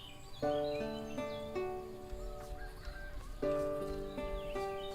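A game rooster crows in the farming game Everdream Valley: two drawn-out, harmonic calls a few seconds apart, clear and close over a light background of music and ambience.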